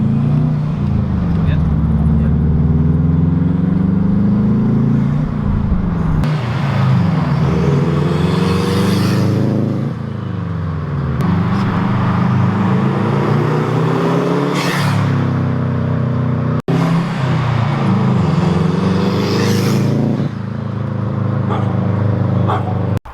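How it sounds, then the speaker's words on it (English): Bugeye Subaru WRX fitted with a cold air intake, driving with loud intake roar rising and falling through repeated revs and gear changes, continuous engine drone throughout, with talk over it and brief dog-like barks. "you can definitely hear the intake now. It's super loud."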